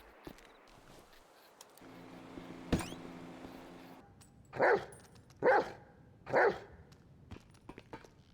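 A dog in the video game GTA barks three times in a row, loud and close, after quieter ambient game sounds including a brief low hum and a sharp thump.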